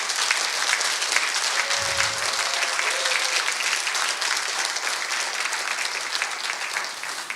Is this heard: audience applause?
yes